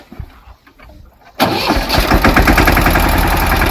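A farm tractor used in a cotton field, with a homemade attachment for ridging, fires up abruptly after a quiet moment and settles into a loud, steady rumbling idle close by.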